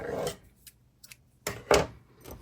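Scissors snip through crochet yarn at the end of a small mosaic crochet swatch, giving a few short, crisp cuts close by with quiet gaps between them.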